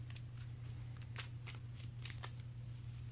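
A Pokémon trading card deck being shuffled by hand, soft papery riffles and flicks in quick irregular bursts, close and faint over a low steady hum.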